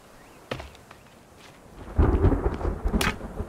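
Thunderstorm in the survival video game The Forest: a rumbling roll of thunder builds and swells after a faint sharp crack, with light rain noise underneath.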